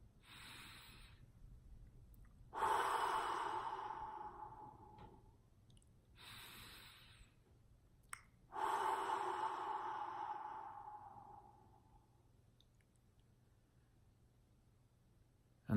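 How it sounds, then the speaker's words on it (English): Slow, deep breaths are taken one after another at a calm pace, each a long airy inhale or exhale that swells and fades, heard faint and close in a quiet room with no talking. "So we'll take 3 big deep breaths now."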